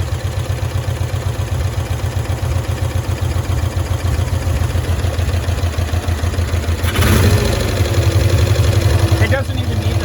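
A 1965 Cushman Truckster engine, back running after sitting a year and a stuck lean valve, idles with a rapid, even putter close by, briefly rising in pitch partway through before settling back.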